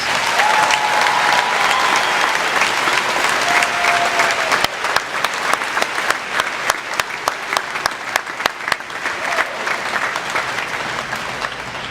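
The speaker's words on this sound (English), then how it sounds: "Please give them all a round of applause." A high school graduation audience applauds loudly and steadily, dense clapping filling the hall, thinning slightly toward the end with a few sharp individual claps standing out.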